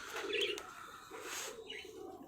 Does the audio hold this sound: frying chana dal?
no